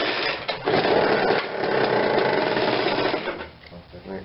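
A Ryobi 760cfm backpack blower is pull-started and its small engine sputters and buzzes unevenly for a few seconds. The sound is loud and close and fades toward the end, and a voice can be heard faintly.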